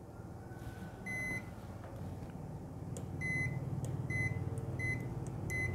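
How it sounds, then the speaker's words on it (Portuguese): A digital multimeter in continuity mode beeps in short, repeated high tones while its probes test points on a Moto G7 phone circuit board for a short. The beeps come in a steady series over a faint background hum, with no talking. "Multímetro na escala de bip."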